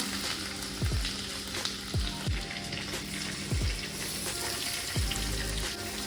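Garlic and ginger frying in butter, a continuous close sizzle broken by several soft thumps and scrapes as the pan is worked, with a faint watery hiss underneath.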